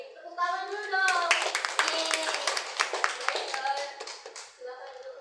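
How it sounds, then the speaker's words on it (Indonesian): Children in an Indonesian religious lesson clap their hands on request, crisp separate claps forming a loose patter, while young voices talk over and around them throughout. "tepuk tangan dulu dong"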